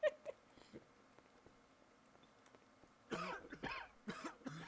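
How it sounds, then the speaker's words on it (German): Characters coughing in the Garry's Mod video game, a few faint coughs at first, then a louder cluster of rough coughs and throat clearing toward the end. "Jetzt husten alle."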